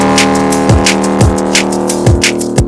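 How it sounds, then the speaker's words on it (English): Electronic music track with a loud, sustained foghorn-like synth layer holding steady tones over a punchy, repeating kick drum pattern and bright hi-hat hits, continuous and mastered through a maximizer. "And then obviously the big hooning foghorn over the top."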